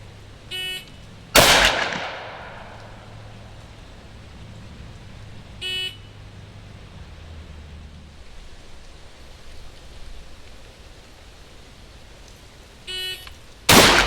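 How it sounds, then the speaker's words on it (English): Shotguns, a Remington 870 pump and a MAC 1014 tactical auto, fire sharp, loud outdoor blasts at a range, one heavy report early followed by lighter beeps and another shot at the end. "the snap shooting with both of these shotguns"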